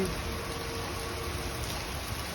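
Steady rain falling in Atlanta, USA, a continuous, even hiss of drops on surfaces heard close and alone with no voices, at a moderate, unchanging level throughout.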